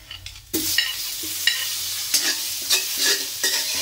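Garlic and onion sizzle in butter and olive oil as a utensil stirs them, with steady frying hiss and repeated scraping clinks in a rhythmic pattern, close and fairly loud, no talking.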